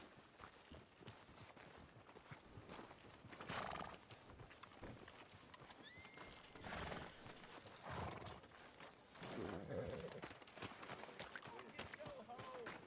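Horse hooves clip-clopping on a town street in the Red Dead Redemption 2 video game, a steady walking rhythm with an occasional snort, under game music and ambient noise, while characters talk.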